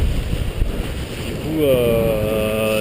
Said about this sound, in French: là, ça remarche, il y a un peu de vent